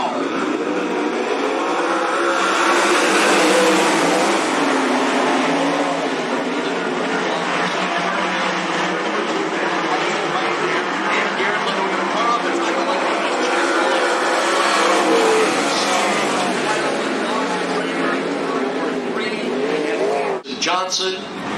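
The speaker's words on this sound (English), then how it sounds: "9 cars for 10 laps. This is heat race number 1." Sprint cars of the American Sprint Car Series running a ten-lap heat race at Cottage Grove Speedway, a dense, loud, continuous engine roar that swells and recedes as the field circles, with an announcer talking over it.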